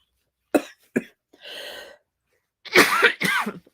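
Several close coughs from a person with a runny nose after crying: two short sharp ones, a raspy breathy exhale, then two harder, louder coughs in quick succession.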